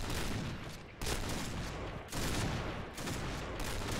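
Gunfire in the online shooter game Point Blank during sniper play: loud, repeated bursts of rapid shots in short volleys roughly a second apart, with brief gaps between them.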